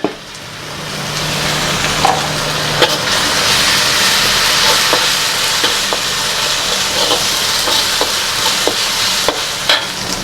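Onions frying with ginger garlic paste for mutton curry, a loud, continuous sizzle with a spoon repeatedly scraping and stirring against the pan.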